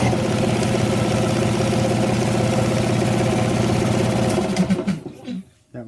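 An air compressor hums with a steady, droning motor tone, then winds down and cuts off in the last second or so, leaving near silence.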